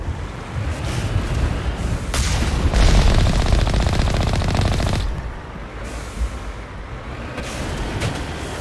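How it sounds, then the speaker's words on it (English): Heavy, sustained gunfire with bullets striking shields on the Mako vehicle during the Siege of Virmire in Mass Effect 1, loud rapid bursts that swell and then drop back to a lower rumble, with no speech. "Or maybe it was just the bullets bouncing off the shield."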